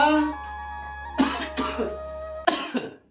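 Several sharp coughs in quick bursts, close and fairly loud, over a steady background hum with faint music.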